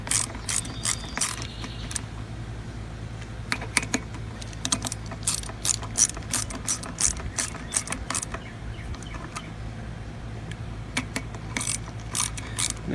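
A ratchet clicks in rapid bursts while tightening clutch spring bolts, the sharp metallic clatter repeating in quick strokes with brief gaps, close and distinct throughout.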